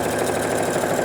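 A sewing machine runs steadily through a long straight seam of a dress, its motor giving an even, continuous mid-range whirr with no break for the full stretch.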